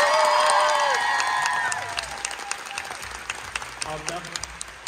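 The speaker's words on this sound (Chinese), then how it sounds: "我们再把掌声献给他们，谢谢他们" A theatre audience applauds the actors at a curtain call, a dense, loud burst of clapping with cheers that thins into scattered, uneven claps.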